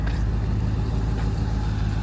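A Cadillac CTS-V1 with a newly installed driveshaft drives along with a steady, low engine and road rumble, still carrying a persistent droning drivetrain noise, close and continuous.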